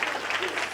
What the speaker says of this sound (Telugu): ఈ మూట గట్టిగా చప్పట్లు కొడదాం